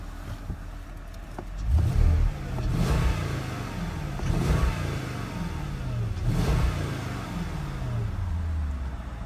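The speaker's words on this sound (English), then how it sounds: "Give it a couple of revs." Big V8 of a 2012 Porsche Cayenne S with 52,000 miles revved a few times, each blip rising to a throaty roar then falling back to idle, loud and close.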